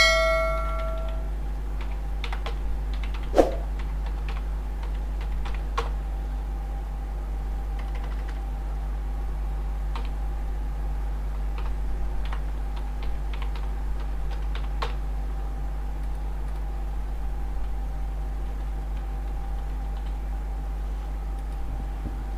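Someone types an email ID and password on a computer keyboard, a sparse run of faint key taps with one sharper clack, over a steady low electrical hum.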